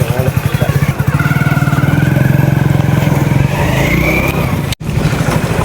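A motorcycle engine idles and putters loudly up close, its rhythmic thumping rising briefly as the throttle opens.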